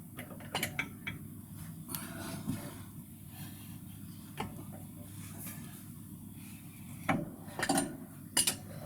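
A wrench cranks down the cylinder head nuts on an Austin Healey 100/4 during a new head installation, giving sparse, faint metallic ratcheting clicks in a quiet workshop, with a few sharper clicks near the end.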